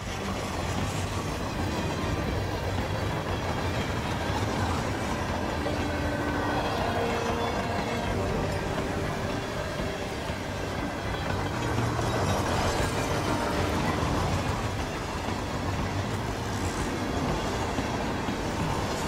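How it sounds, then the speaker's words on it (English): Continuous rumbling and rattling of a train running in the video game Hitman 3 on the Carpathian Mountains mission, a steady, loud, close interior rail noise with faint rhythmic wheel clatter throughout and no talk. "Oh, we're on a train."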